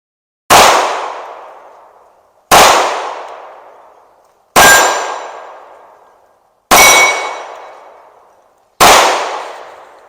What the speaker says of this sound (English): I'll fire off 2 shots just to see if I feel the same with the Pinky mag